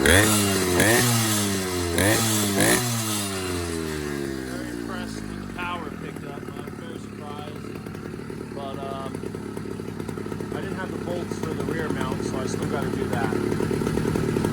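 An 80cc motorized bicycle engine with a leaned-out carburetor runs loud and close, revving up and down at first before settling into a steady buzzing idle, with someone talking over it.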